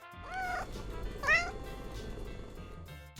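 A cat meows twice, with a rising, drawn-out cry early and a louder, higher one soon after. Both stand out clearly over a steady low background hum.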